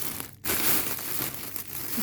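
Plastic parcel bag holding decorative artificial flowers for wreaths crinkles and rustles as it is unpacked, a steady close handling noise lasting throughout with a brief pause near the start.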